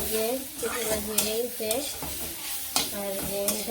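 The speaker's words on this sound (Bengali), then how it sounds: "তো ভাজি করে নেই" A coriander leaf dish fries in a pan with a constant sizzle, while repeated metallic scrapes and clinks from a spatula stirring it recur every second or so.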